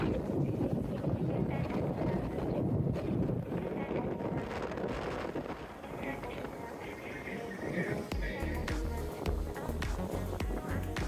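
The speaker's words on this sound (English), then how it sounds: "it's so windy here that despite the sun, it's getting a little bit cold" Strong wind buffets the microphone aboard a cruise boat sailing near Santorini, Greece, a constant roaring rush over low engine and water rumble, with heavy low thumps of gusts near the end.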